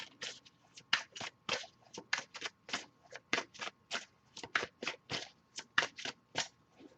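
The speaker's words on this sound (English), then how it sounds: "I'll give it a few more shuffles before we move on" A deck of tarot cards shuffled by hand up close: a long run of crisp, rhythmic riffling bursts, about three per second and fairly even, with no talking.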